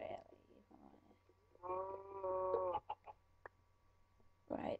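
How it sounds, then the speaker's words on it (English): A video-game chicken gives a short run of clucks at close range, with brief clicks and a faint, quiet voice at the start and end. "we're gonna kill a helpless ducky chicken"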